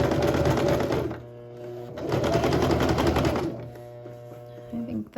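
A sewing machine stitches a shirt seam in fast mechanical bursts, running, pausing briefly, then running again, heard close and loud with no voice over it.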